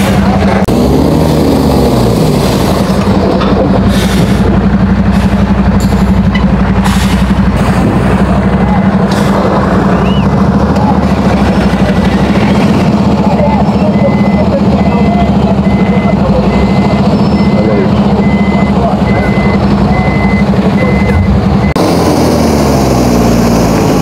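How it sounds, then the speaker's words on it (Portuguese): A truck manoeuvres to board a river ferry at the Ceasa port in Manaus on the Rio Negro, its engine droning loudly and steadily with intermittent beeps, while people talk nearby. "Outro caminhão aqui querendo embarcar na outra balsa."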